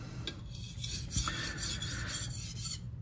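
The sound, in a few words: working a sharpening stone, rasping sound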